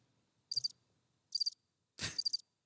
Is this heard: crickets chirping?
yes